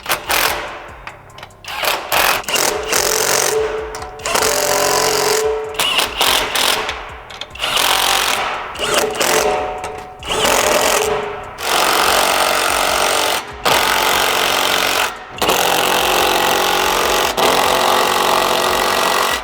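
A power tool snugs up 15mm nuts on a Dinan exhaust fitted to a new BMW M3, giving loud, close rattling bursts that stop and start repeatedly with short gaps between runs.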